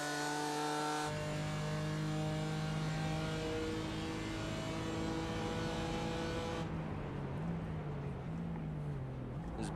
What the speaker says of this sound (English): This beautiful sounding BMW M4